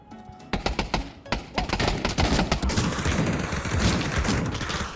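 Gunshots in the VR shooter Pavlov VR during a zombie match, with a few separate cracks and then a dense, continuous volley of rapid fire that stays loud and close throughout, with no talking.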